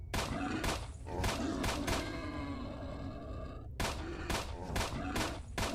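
Gunfire in a S.T.A.L.K.E.R. game firefight sounds as repeated sharp, punchy shots in quick, uneven volleys, with a short lull in the middle before another run of close, loud bursts.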